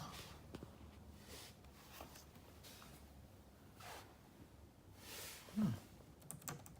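Keys on a new HP laptop keyboard are tapped in short, quiet bursts of clicky presses with pauses between them, close and soft in a quiet room.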